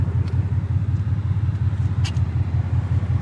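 A 2018 Ford Mustang engine idling, a steady low rumble that stays close and even throughout with no voices.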